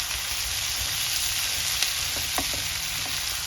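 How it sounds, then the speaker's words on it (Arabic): Onions fry with potatoes in a pan, giving a steady, close hiss and sizzle with a few faint clicks of stirring and no talking. "بعد كده نزلت بالبصل. نشوح البصل كده"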